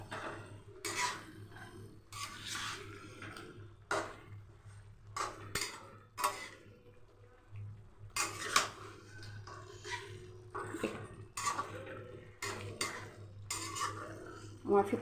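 A spoon scrapes and clinks against a pan while chicken curry (maska makhani chicken) is stirred, giving irregular bursts of metallic knocks and scrapes with short pauses between them over a low steady hum.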